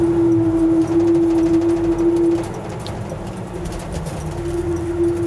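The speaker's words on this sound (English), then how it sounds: "Brake pads are aggressive, so you can hear them." Aggressive brake pads on a 1969 Chevrolet C10 pickup slowing from about 48 mph, giving a loud sustained squeal that holds steady, drops out briefly and returns over a low rumble of the truck and road.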